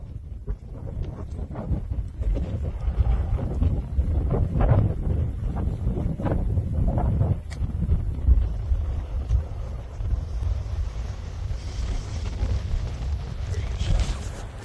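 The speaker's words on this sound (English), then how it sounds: "I know there's a lot of wind sound" Heavy, continuous wind buffeting a microphone outdoors on a mountain hike in Nevada's Rainbow Mountains, a loud low rumble with gusty surges lasting throughout, no talking.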